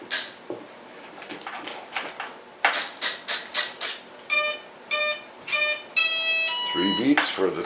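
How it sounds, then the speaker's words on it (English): Electronic speed controller on a Parkzone Sport Cub model plane, powered by a 3-cell 11.1 volt LiPo, giving a series of short electronic beeps followed by longer tones, with a voice talking earlier. "Beeps for the 3-cell."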